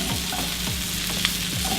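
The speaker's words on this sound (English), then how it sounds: "we can start cooking the actual fried rice" Breakfast fried rice sizzles steadily in a pan while a utensil scrapes and stirs it in repeated strokes, close and continuous with no talking.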